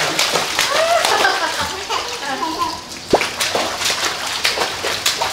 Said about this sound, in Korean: 첨벙첨벙 했어?